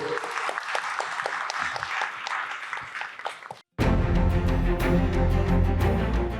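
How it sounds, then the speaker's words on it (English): Audience applause at the Maharashtra Maritime Summit for the Maharashtra Maritime Board: dense clapping for a few seconds, a brief cut to silence, then loud music takes over. "A big round of applause to the Maharashtra Maritime Board."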